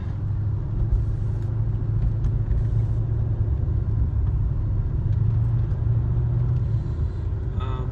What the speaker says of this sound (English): The other thing that I love about this car is when you're in manual mode, it'll hold the gears, it'll bang right off the rev limiter.